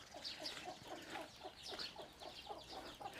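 Several chickens cluck in irregular bursts, with sharper higher calls mixed in and a steady farmyard background underneath.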